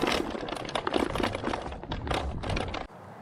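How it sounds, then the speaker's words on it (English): The folding stem of a Xiaomi M365 Pro electric scooter, missing its rubber damper, rattles loudly up close in rapid irregular clacks that stop abruptly near the end. "the scooter has had this rattling problem since the first week that I've owned it"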